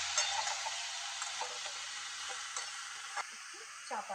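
Salted bottle gourd pieces stirred in a hot pan, giving a steady broadband sizzle with scraping strokes from the spoon and a few sharper clinks near the end.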